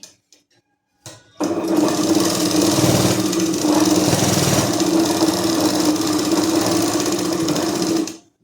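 A sewing machine stitches a patiala salwar, starting with a few short taps and then running in one steady, loud, close mechanical whir for about seven seconds before stopping.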